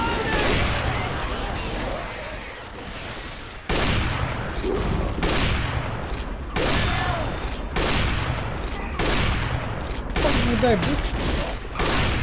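Rapid bursts of gunfire in the zombie shooter Left 4 Dead 2, loud and dense with repeated volleys throughout, while a voice speaks over the shooting.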